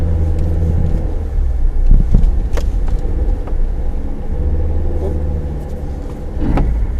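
2019 Suzuki Jimny 4x4 easing off a ledge with traction control working, heard as a steady close engine rumble with intermittent clunks and bumps from the drivetrain and suspension; no talking.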